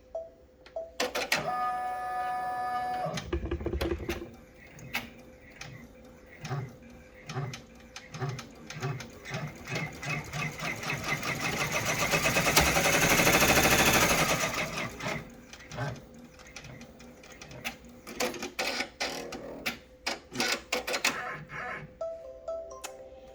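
A sewing machine stitches a lined zipper bag in bursts of rapid mechanical clatter, separated by pauses and a longer whirring run in the middle.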